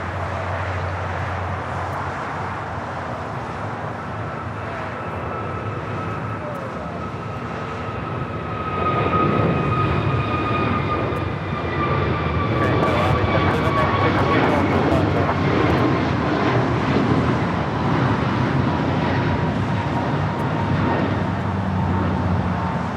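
An American Airlines A321neo rolls down runway 24 left at LAX, a low jet rumble that swells about halfway through into a louder whining roar, with radio chatter and a person talking over it.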